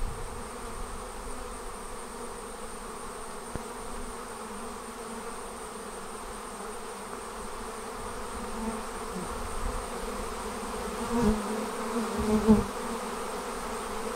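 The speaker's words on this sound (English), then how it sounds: "the workers are now creating a swarm around her to protect the queen" Honey bees swarming out of an observation hive, the workers clustering around the queen on a branch, make a steady, dense buzzing hum that continues throughout, with a few louder rises near the end.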